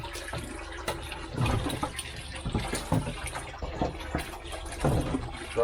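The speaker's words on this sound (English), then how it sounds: "I was just watching that water. It's surging if you look at it. It's not a constant flow." Pond water pushed out by a pump splashes and gurgles unevenly, surging in pulses rather than flowing steadily, moderately close and without talk.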